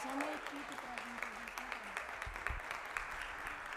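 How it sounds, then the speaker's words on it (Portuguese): An audience applauds at a formal solemn session honoring a refugee-support award winner, giving steady, even clapping of moderate loudness while a voice speaks briefly over it. "Uma salva de palmas para essa mulher e para o seu trabalho."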